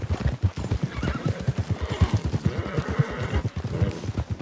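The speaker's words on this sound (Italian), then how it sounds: "Aspetta, hai spaventato il cavallo. Fermati e fallo calmare." A horse in the video game Red Dead Redemption 2 whinnies loudly while its hooves clip-clop in a fast, steady galloping rhythm, close and dense across the whole stretch, with no talking.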